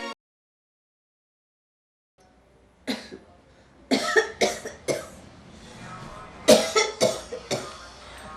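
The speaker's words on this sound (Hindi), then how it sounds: "लगता है ये खांसी भी ना" A person coughs in a series of harsh bursts after a brief silence, some coughs close together, loud and near.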